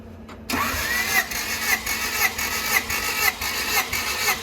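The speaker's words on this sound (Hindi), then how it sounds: "हम इंजन का कंप्रेशन टेस्ट करने लगे हैं।" An engine cranks over rhythmically for a compression test, a steady pulsing churn with regular peaks, loud and close, running without pause after a brief quiet start.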